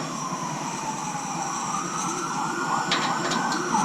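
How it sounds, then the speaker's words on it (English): An emergency vehicle siren passes in the distance, its wavering tone sweeping steadily across a quiet workshop background. "Never get tired of the emergency vehicles here."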